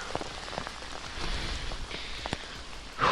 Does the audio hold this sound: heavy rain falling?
yes